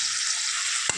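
Chicken meat frying in a pan with cumin, coriander and other spices for Haryana-style chicken, a steady close hiss of sizzling with a single sharp scrape of stirring near the end.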